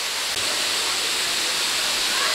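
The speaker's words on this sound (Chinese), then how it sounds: "这边的话就是应该就是第二层瀑布了" The second tier of a waterfall near Xizhi roars in a loud, continuous, broad rush of falling water, heard up close and unbroken.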